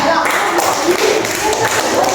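Children in a classroom clap their hands together in a dense, steady burst of applause, fairly close and loud throughout, with some voices mixed in.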